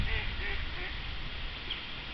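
Wild ducks on a boating lake in Gyula quack faintly at a distance, a few short calls over steady outdoor background noise.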